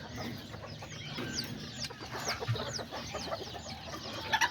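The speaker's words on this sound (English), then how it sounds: "I put all the little chickens over here." Small flock of kikiriki hens and roosters milling about in a backyard pen, giving scattered, overlapping soft clucks and chirpy calls, fairly close and moderately quiet.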